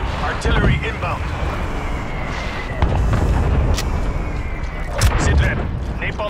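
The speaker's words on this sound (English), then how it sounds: "Hostile artillery targeting active. Artillery inbound." Artillery strike explosions in Call of Duty: Black Ops Cold War multiplayer: heavy low booms and rumbling blasts, loud and close, mixed with gunfire pops and game voice chatter.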